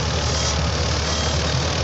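A Farmtrac tractor engine runs steadily while powering an Agrizone super seeder in a farm field, giving a loud, close, unbroken diesel rumble with a constant knocking drone and no talk.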